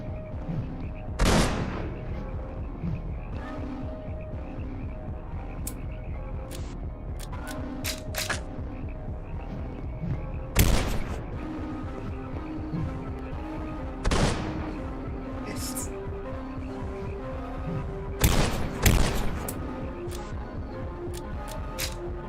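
Gunshots in a shootout in the retro-inspired horror game The Lacerator, sharp isolated cracks spaced several seconds apart, some in quick pairs, over a steady droning game soundtrack.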